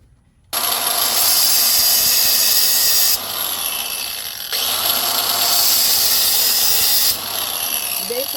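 Power saw cutting metal mounting legs to equal lengths for a van charger install: loud, steady whining cuts close by, two long passes separated by a short pause.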